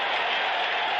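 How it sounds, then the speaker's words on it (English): Baseball stadium crowd at the 1973 World Series Game 7 letting out sustained oohs and ahs as a homemade parachute drifts toward the field, a steady dense wash of many voices throughout. "it's drawing oohs and ahs from the crowd"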